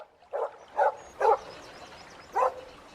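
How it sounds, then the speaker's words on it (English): Four sharp dog barks, three in quick succession and one after a short pause, heard at moderate distance against a quiet background. "nose to the ground, barking loudly"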